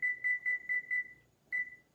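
A kitchen timer beeps in a home kitchen during cookie baking: five quick, evenly spaced high-pitched beeps, a short pause, then one more beep, clear and close with nothing else behind it.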